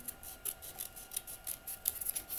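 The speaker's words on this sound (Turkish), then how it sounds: "Hemen bunu da kesiyorum." Scissors snip through paper while a paper hand-and-heart shape is cut out, giving quick, rhythmic, crisp cuts close by with no voices.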